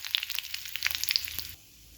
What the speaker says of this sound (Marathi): मोहरी आपली छान तडतडली की त्याच्यामध्ये थोडेसे जिरे घालून घ्यायचे आहे.